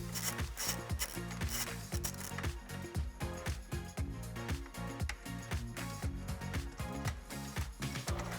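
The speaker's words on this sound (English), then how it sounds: "we're gonna take our 8mm socket with a small extension so we can get this bolt out here from underneath the headlight." A ratchet with an 8mm socket and a small extension clicks in fast, even bursts while it works bolts loose under the headlight of a 2018-2020 Ford F-150 to take off the grille. The ratcheting is close and steady, with no talking.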